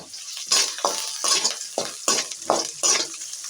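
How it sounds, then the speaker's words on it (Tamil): Onions and curry leaves frying in a pan, with bursts of hissing sizzle rising and falling as a spoon stirs in a quick, regular rhythm. The sound is close and fairly loud, with no voices. "வெங்காயத்தை போட்டு நல்லா வதக்கிட்டு அதில் சிறிது கருவேப்பிலை போடுவோம்"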